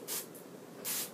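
Two short bursts of hissing water spray onto a glass tank, a brief pause between them, close up and fairly loud over a low background murmur.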